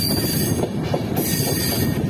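A train arriving from Puri, the Dhauli Express, rolling past on the rails with a dense continuous rumble and faint wheel squeal, loud and close throughout, no voices.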